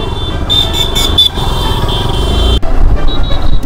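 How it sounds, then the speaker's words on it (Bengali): A motorcycle carrying riders along a road on the way to a village fair near Shantipur, engine drone steady and loud throughout with traffic around and a brief car horn toot. "এই বাইকে চলে এসছি আমরা"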